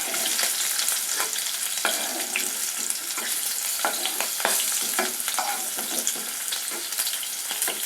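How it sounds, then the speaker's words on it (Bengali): Capsicum lightly frying in a pan, with a continuous bright sizzle and crackle up close, broken by frequent scraping stirs of a spatula. "ক্যাপসিকাম খুব বেশি ভাজবো না, অল্প অল্প ভেজেই তুলে রাখবো"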